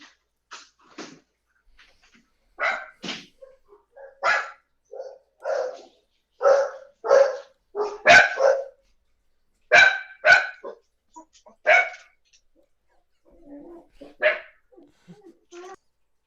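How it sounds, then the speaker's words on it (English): Several dogs barking in an excited, irregular volley, with sharp separate barks and short bursts, close and loud, spaced by brief gaps throughout. "his dogs are going a little bit nuts about the whole thing"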